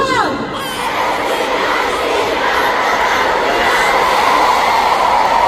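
A large concert crowd at a concert finale roars and shouts continuously, a dense, loud wall of cheering voices that stays steady throughout.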